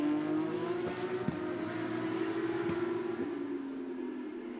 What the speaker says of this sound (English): The rest of the cars are crossing the line now.